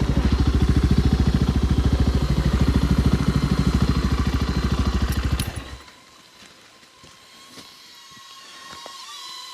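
Dirt motorcycle engine idling up close on a wooded trail, a loud steady pulsing chug that cuts off abruptly partway through, leaving quiet outdoor ambience with faint distant sounds.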